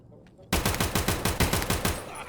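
Automatic gunfire in the Escape from Tarkov video game, a sudden burst of about a dozen rapid, evenly spaced shots after a brief quiet start, loud and close.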